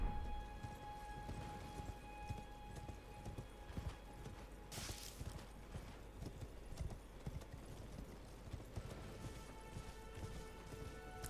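Horse hooves clip-clop in a steady galloping rhythm in the video game Elden Ring, with a soft musical drone behind and a brief crashing burst midway.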